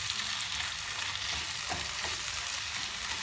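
Peeled shrimp, about three hundred grams, stir-fried in a pan over a wood-fired stove, giving a steady, close sizzle with light scraping stirs throughout.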